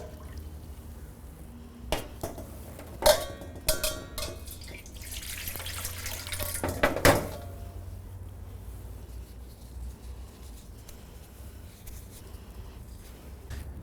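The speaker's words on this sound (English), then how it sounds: "So the waste water needs to be changed." Waste water is poured and splashed in a basin while being changed during a bed bath, with a few scattered clinks and short trickles, then a longer pour before things fall quiet.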